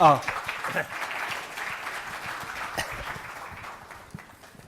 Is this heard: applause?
yes